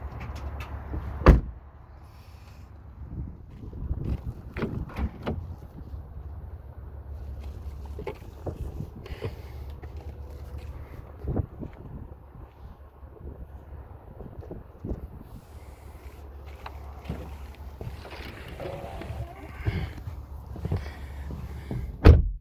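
Car doors on a 2014 Mercedes-Benz GLE 43 AMG thud shut several times, solid closing knocks with handling and rustling between them, fairly close.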